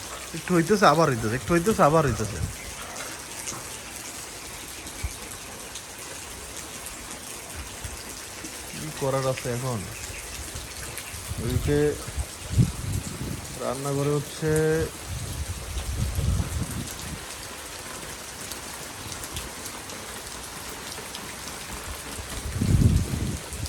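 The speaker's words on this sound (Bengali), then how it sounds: "বৃষ্টি হইতেছে দুই মিনিট তিন মিনিট পর পর খালি পুরো ধরে বৃষ্টি" Heavy storm rain pours steadily throughout, with a few low thunder-like rumbles, while a person talks intermittently over the downpour.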